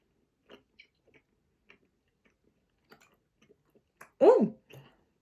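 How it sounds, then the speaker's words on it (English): A Brazilian candy is chewed close to the mic, with soft, sparse sticky clicks and mouth sounds scattered over several seconds, followed by a brief vocal murmur near the end. "it starts to melt in your mouth and then you start chewing it"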